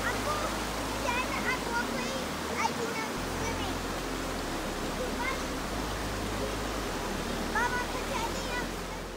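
Creek water flowing outdoors: a steady, close, broadband rushing and babbling that fills the whole stretch without pause, with faint chirps and voices scattered over it.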